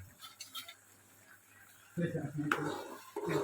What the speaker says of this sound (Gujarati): થોડુંક આમ હલાવી લઈએ હલાવીને પાછું સીબું ઢાંકી દઈએ